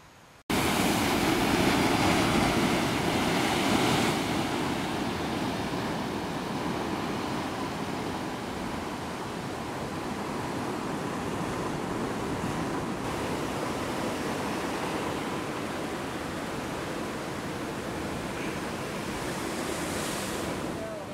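Ocean surf crashes and washes steadily below cliffs near lava tubes on a rocky coast, a loud continuous roar with wind buffeting the microphone and no clear voices.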